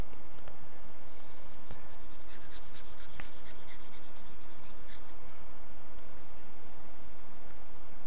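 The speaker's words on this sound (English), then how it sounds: "I'm going to see if I can erase some of the squiggly lines so it's not as confusing." Erasing squiggly lines on a writing surface while working through relations and functions: a steady, close, continuous scratchy rubbing that fills the clip with no speech.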